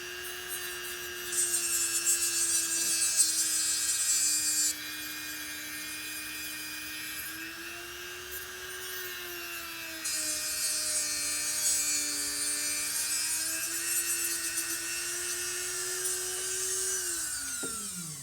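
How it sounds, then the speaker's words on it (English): High-pitched whine of a Dremel rotary tool cutting lines into a plastic Hexbug Whiplash plow, steady and close, with a faint pitch drop where it briefly eases off before spinning up again and stopping at the end. "So now with the mark, we're going to go ahead and turn the Dremel back on."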